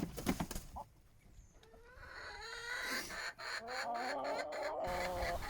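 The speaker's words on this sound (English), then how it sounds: "Soon there were full-blown fights in the coop." Rescue chickens fighting in a coop, with a rough scuffle at first, then a run of agitated clucks and squawks that grows steadier and louder, fairly close by.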